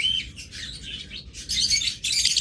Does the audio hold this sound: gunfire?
no